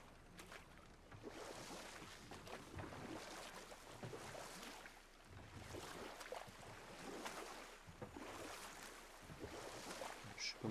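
Boat gliding over water in God of War, with steady splashing, wash and wind-like noise running throughout at moderate level, no voices.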